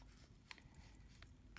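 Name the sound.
snipping jewellery wire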